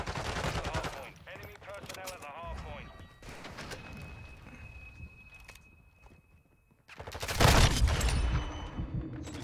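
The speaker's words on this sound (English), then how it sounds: "A teammate shooting at me right now god." Automatic gunfire in Call of Duty: Modern Warfare 2 ranked multiplayer, with loud bursts at the start and a heavy volley near the end, broken by quieter footsteps and game effects, while a player talks over it.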